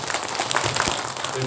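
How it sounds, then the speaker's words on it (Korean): Audience applause at a book launch event in Mokpo, honoring lawmaker Jeong Pil-mo: a dense, steady wash of clapping from the crowd through the whole moment, with voices mixed in. "우리 정필모 의원님께 박수 한번 부탁드립니다"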